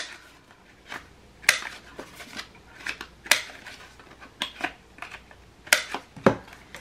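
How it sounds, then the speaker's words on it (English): Scissors trimming paper for a handmade autumn mini album, a series of crisp close snips and rustles spaced irregularly, clear and alone without speech. "So I'm just gonna trim this up a little bit, clean it up."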